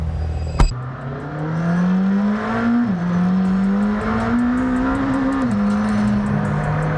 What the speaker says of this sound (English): let's take the car for a drive